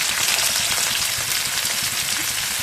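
Pieces of elephant foot yam fry hard in a pan over high flame, giving a continuous, close crackling sizzle with rapid popping throughout.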